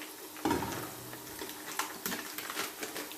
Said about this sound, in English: So it fries together with the sausage and onion, so you can release this flavor.